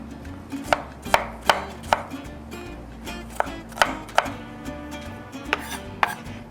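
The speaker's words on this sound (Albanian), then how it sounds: "më duhet që të presim edhe domatet" A knife chops tomatoes on a cutting board with sharp, close knocks in an uneven rhythm, about a dozen cuts, over a faint background hum and no speech.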